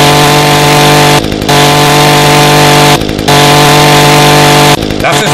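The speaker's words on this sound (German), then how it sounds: "Die Kettensäge ist überhaupt nicht laut." Chainsaw felling trees in the video game ECO: a loud, steady engine drone with a strong tonal whine fills the clip, broken by three short dips as the saw bites in or the throttle eases.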